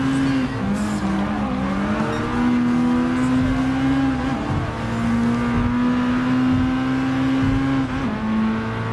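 A turbocharged Amuse S2000 GT1 race car in Gran Turismo Sport drones at high revs through an overtake, its engine note rising and dipping with gear changes, with brief tire squeal and other cars nearby.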